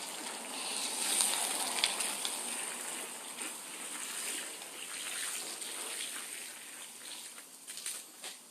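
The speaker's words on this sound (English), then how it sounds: "So what we do is we'll hose them down first." Water from a hose sprays steadily onto food truck floor mats, a continuous rushing hiss with slight surges and splashes, fairly soft and steady throughout with no talking.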